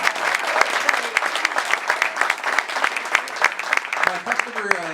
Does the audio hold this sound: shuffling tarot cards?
no